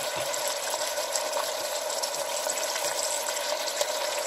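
Garlic sizzling steadily in a hot pot for a salted fish and eggplant dish, a continuous dense hiss with faint crackles and no talking.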